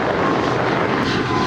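A jet airliner rolls for takeoff on runway 25 at LAX, a steady loud roar of engines heard at a distance with no voices over it.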